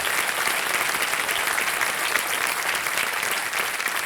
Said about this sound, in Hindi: और जी ताली बजाएं इनके लिए।